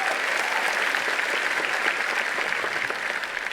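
Audience applause at an education charity talk, a steady, even wash of many hands clapping at moderate volume with no voices over it.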